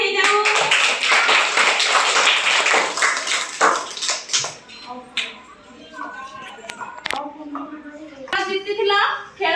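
Children clap together in a group, a burst of dense, fairly loud hand claps in the first few seconds, then scattered taps and voices of kids and an adult talking in a classroom activity.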